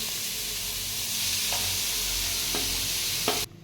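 Chopped onions frying in hot oil with ginger and garlic for Schezwan fried rice, a loud steady sizzle with a few stirring clicks and scrapes, then an abrupt stop, no voices.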